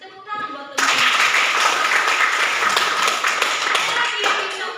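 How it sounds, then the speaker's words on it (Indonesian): Students in a classroom break into applause, a burst of many hands clapping that starts abruptly after brief talk and continues loud and dense for several seconds before tapering slightly. "Terima kasih, tepuk tangan buat teman-teman."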